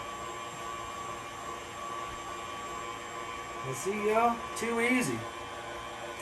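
A steady electric mixer hum drones throughout at moderate volume while someone speaks briefly over it.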